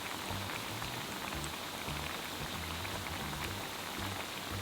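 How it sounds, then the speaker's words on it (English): Steady dense crackling and sizzling of egg tofu frying in hot oil until crispy, constant and close throughout with no talking. "Fry until crispy for about 3 minutes."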